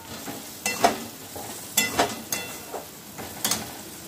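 Paneer and pointed gourd curry being stirred in a pan just after sour yogurt goes in, with a faint sizzle under repeated scraping strokes of a spatula in uneven bursts, close by.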